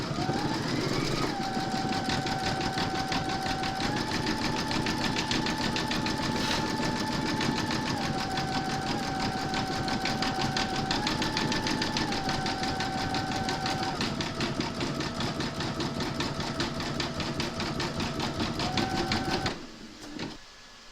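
An embroidery machine zigzag stitching around a koala appliqué body, a fast steady mechanical whirr with a pitched motor hum that steps up and down as it moves, running continuously for about twenty seconds before stopping.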